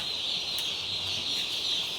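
Chickens on a farm make soft clucks and calls over a constant high-pitched background drone, fairly quiet and steady, with no voices.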